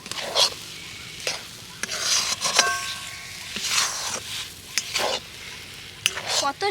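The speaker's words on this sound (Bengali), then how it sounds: "এইভাবে নেড়ে নেড়ে কিন্তু আরেকটু এই দুধটাকে পুরোটাই টানিয়ে নিতে হবে" Semolina being stirred with milk in a pan, the spoon scraping in short irregular strokes over a soft background hiss, close and fairly quiet with brief pauses between bursts.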